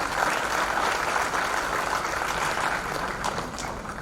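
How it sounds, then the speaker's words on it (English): Sustained, loud applause from an audience honoring dignitaries at a felicitation ceremony at IIIT Allahabad. The clapping forms a dense, steady wash for the whole stretch, with no voices over it. "A huge round of applause for all of them."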